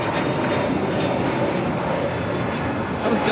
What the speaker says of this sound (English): That was Delta Airlines flight 749 taking off to Tampa on the A321neo.